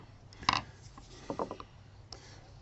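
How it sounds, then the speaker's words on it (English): Metal tool scraping through the aluminum foil seal over the center nut of an opened hard drive, giving a sharp scratchy burst followed by a few lighter rasping scrapes, close and dry. "I'm just sort of scraping through it. It's a kind of an aluminum foil thing on top of this nut here."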